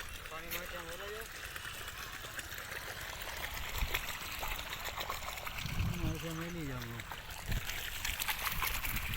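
Water running across a farm path, a steady trickling, splashing flow heard close by beneath intermittent talking voices, with occasional louder splashes.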